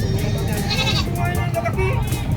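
A goat bleats a few times at a livestock market in San Carlos City, amid loud talking and background noise, the calls partly buried under the voices.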